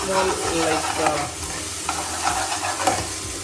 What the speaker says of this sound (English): I'm rolling it continuously so that it will not stick to this pot